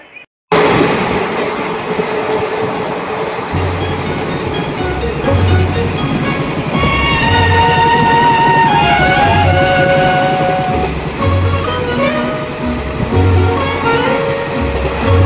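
A passenger train pulls out of Kolkata station, its steady rumble filling the carriage with a rhythmic low clatter of wheels over rail joints that builds and repeats throughout, loud and close with no talking.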